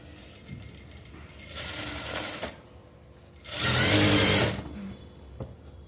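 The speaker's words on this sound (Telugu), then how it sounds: "పైనుంచి డబల్ స్టిచ్ వేసేసుకోండి సేమ్ రెండో వైపు కూడా సేమ్ అలానే కుట్టేసుకోండి" A sewing machine stitches the back piece of a blouse with a double line of stitching, running in two separate bursts, the second louder and closer, with quiet pauses between them.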